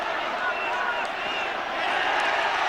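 A football stadium crowd at a St Johnstone match roars steadily with cheering and clapping in the last minute of the game, a dense, continuous wash of noise that stays loud throughout.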